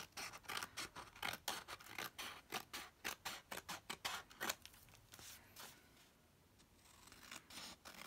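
Scissors snip through glued craft material in a quick run of crisp, close cuts, then a few slower, scattered snips after a brief pause, quiet and with no talk.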